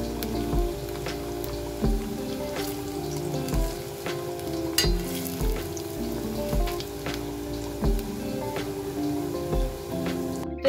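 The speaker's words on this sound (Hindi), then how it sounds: "आपने बिल्कुल इनको लाइट गोल्डन कलर का फ्राई करना है।" Potato bread balls deep-frying in hot oil until light golden, giving a continuous soft sizzle and bubbling crackle with occasional louder pops, steady and moderately close throughout.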